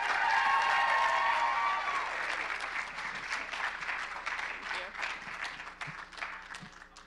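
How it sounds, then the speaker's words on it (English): Audience applauding a contestant at a college hospitality pageant talent show, loud dense clapping that starts under a voice over a PA and then slowly thins and fades. "Let's have another round of applause for contestant number 9."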